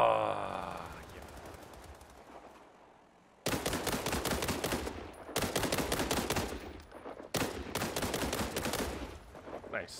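Rapid bursts of rifle fire in a combat video game crackle loudly and close, arriving in several dense volleys separated by brief pauses, with a quieter stretch of background noise before the shooting begins.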